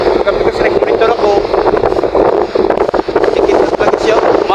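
Strong typhoon wind from Typhoon Tino lashing Biliran, a continuous loud roaring rush buffeting the microphone with gusty surges throughout, voices faintly mixed beneath it.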